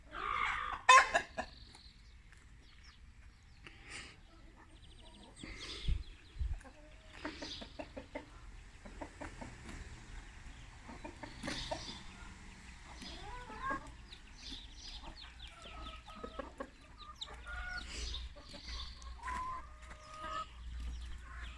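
Backyard chickens and a rooster clucking and calling in short scattered bursts, close and moderately loud over a quiet outdoor background, with a few louder squawks near the start.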